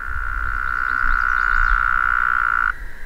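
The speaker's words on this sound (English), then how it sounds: "Oh, there's a toad right there somewhere." A toad near the water on a canoe trip gives a single loud, sustained trilling call lasting nearly three seconds before cutting off, close by over low outdoor rumble, with no voices.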